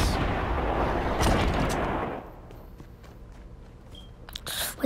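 Gliding missile explosion in Fortnite, a loud booming blast with rumbling debris that fades after two seconds into quieter game ambience and a few small clicks and thuds.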